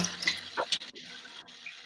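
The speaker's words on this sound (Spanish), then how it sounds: "Voy a servir agua." Water is poured into a glass during a webinar, a brief close trickle with rising bubbly tones that fades out, with no talking.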